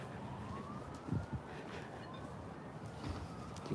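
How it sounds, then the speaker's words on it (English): Emergency vehicle sirens wail faintly in the distance, a thin rising and falling tone over low background rumble with a few soft knocks. "They're still going with the sirens."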